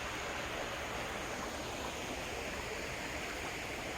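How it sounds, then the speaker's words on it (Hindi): A river in Gir Forest, Junagadh district, Gujarat, flows with a steady, dense wash of rushing water that holds even and fairly close throughout, with no voices over it. "ये नदी है। देखो ये सीधी है ना, बह रही है उस तरफ।"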